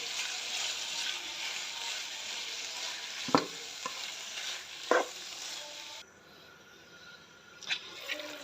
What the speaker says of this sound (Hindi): ये देखिए, हमारा चिकन अच्छी तरह फ्राई हो रहा है।